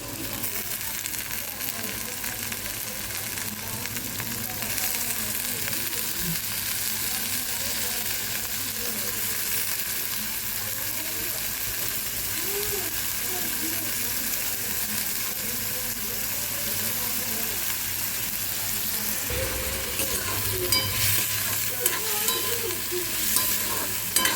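Spiny gourd (kankoda) sizzles steadily in oil in a frying pan, with onion already added, while a spoon stirs it, making loud continuous frying hiss with scraping, under occasional faint talk.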